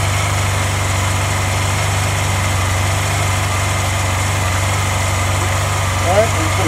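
A 2009 Honda Silverwing 600 scooter fitted with a LeoVince 8552 slip-on exhaust runs at a steady idle, a loud, close, even low hum that keeps going without change.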